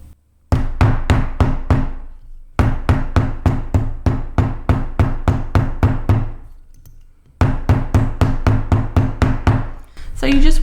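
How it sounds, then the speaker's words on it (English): Rawhide mallet pounding a sandbag in three bursts of rapid, evenly spaced thuds, each a dull, close, muffled knock with no ringing. "first I'll show you with the rawhide hammer."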